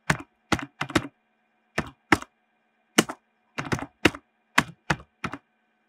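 Someone types a command on a computer keyboard while setting up a hack to raise a DJI Ryze Tello drone's height limit, producing close, crisp clusters of key clicks in short bursts separated by brief pauses, with no talking.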